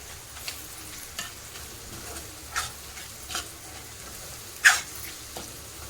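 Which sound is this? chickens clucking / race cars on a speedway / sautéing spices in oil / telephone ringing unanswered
sautéing spices in oil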